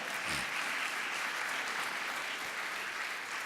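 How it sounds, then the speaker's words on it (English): A conference audience at a general session gives steady, full applause, a dense wash of many hands clapping throughout. "Give them a round of applause."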